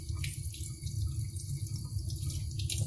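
Tap water runs steadily as hands are rinsed under it at a sink, a close continuous splashing stream with no talking.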